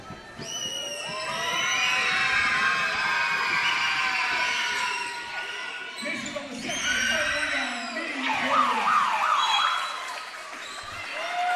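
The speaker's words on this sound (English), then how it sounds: "she's clearly a crowd favourite here at the Jungle because the enthusiastic welcome that she receives" A basketball grand final crowd gives player Amber Ross a loud welcome, with sustained cheering, whistles and shrill crowd noise that rise and swell across the stretch while a commentator talks over it.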